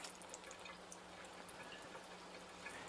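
Water from an ionizer set to alkaline level 2 runs steadily into a small test container, filling it about halfway, as a faint, even stream of liquid noise.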